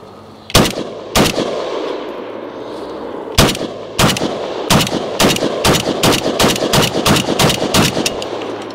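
A Palmetto AK-102 rifle chambered in 5.56 fires off the rest of a magazine outdoors, two sharp shots, a pause, then a quickening string of loud, cracking reports, unsuppressed and close.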